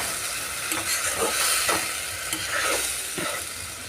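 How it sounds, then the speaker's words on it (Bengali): Masala stir-fried with a little water for a catfish curry, a continuous bubbling sizzle with a few scraping stirs of the spoon, close and moderately loud, no talk. "মশলাটার মধ্যে একটু হালকা জল দিয়ে দেব দিয়ে ভালো করে কষাতে থাকবো"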